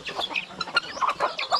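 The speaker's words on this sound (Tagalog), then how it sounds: "Manok." Chickens clucking in a busy chorus, several birds calling over one another in short, irregular bursts, fairly close.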